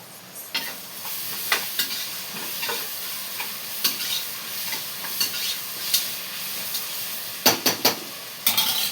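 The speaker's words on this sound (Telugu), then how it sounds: "లేత కరివేపాకు, కాస్త కరివేపాకు వేసుకుందాం" Curry leaves sizzle in hot oil in a pan holding mutton, a steady close hissing fry broken by sharp stirring scrapes and pops, with a few louder clustered strikes near the end.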